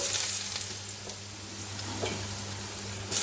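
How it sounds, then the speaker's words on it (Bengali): Chopped potatoes go into hot oil in a wok-style pan with dried red chili tempering, producing a dense, even sizzle that holds steady and close throughout. "কড়ার মধ্যে আমি তেল দিয়েছি তেলের মধ্যে একটা শুকনো লঙ্কা ফোড়ন দিয়েছি এরপরে দিয়ে দেবো আগে থেকে কুচানো আলু"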